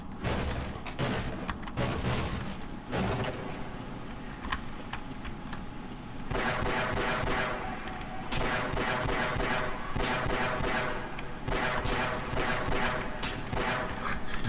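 Rapid pistol fire in the video game Half-Life, a dense, loud stream of shots held for the full length with little pause, backed by game effects and ambient sound.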